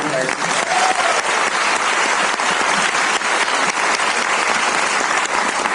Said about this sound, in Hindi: आई जस्ट वांट आप सबको एक बढ़िया ताली की